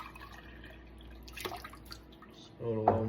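Liquid poured into a measuring container, a short splashing pour that starts near the end and runs steadily, close and fairly loud, after a stretch of quiet room noise with a few small drips.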